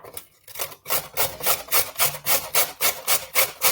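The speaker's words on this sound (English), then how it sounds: "So I'm going to grate the carrots." Carrots being grated by hand for Glamorgan sausages, a rapid even series of about a dozen rasping strokes, close and loud, with a brief pause before the rhythm settles.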